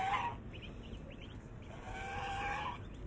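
A goose that has just attacked a dog honks in short bursts, one at the start and a longer run near the end, fairly close over a rough background rumble.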